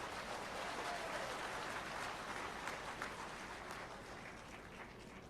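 Crowd applauding at a political rally, a dense wash of clapping from many hands, fairly distant and steady, slowly thinning toward the end.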